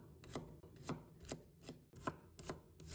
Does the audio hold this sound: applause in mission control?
no